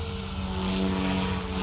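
A Blade 500x RC helicopter flies steadily, its rotor and motor producing a continuous whining buzz with strong tonal hum, loud and close throughout.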